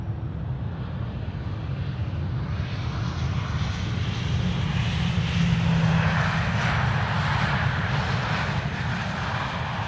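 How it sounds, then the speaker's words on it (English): KLM Boeing 737-700 jet arriving at Amsterdam Schiphol, a sustained low engine rumble and rushing hiss that thickens gradually as the aircraft nears, heard alone without speech. "No KLM 737-700."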